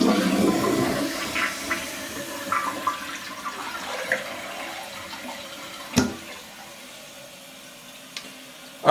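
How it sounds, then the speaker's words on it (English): A toilet flushes right after its fill valve has been reattached: a loud rush of water at the start gives way to a gurgling drain and a softer trickle of refilling, with a few faint clunks. "I'm going to go ahead and flush the toilet"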